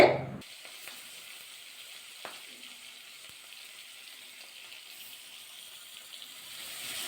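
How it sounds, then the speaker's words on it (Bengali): Steady soft sizzling of giant river prawns frying in hot mustard oil, a faint continuous crackle after an initial burst, with an occasional light clink. "তেলটা গরম হয়ে গেছে এবার মাছগুলো ভাজা করে নেব"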